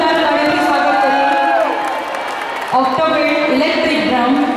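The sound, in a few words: audience applause and cheering welcoming the musicians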